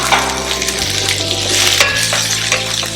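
Chopped onions and green chilies frying in a pan, a loud, steady close sizzle with light stirring texture and no talking.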